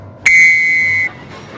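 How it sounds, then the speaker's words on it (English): A railway guard's whistle in an animated Thomas the Tank Engine story gives one long, loud, shrill blast that holds steady for almost a second before cutting off. "The guard blew his whistle."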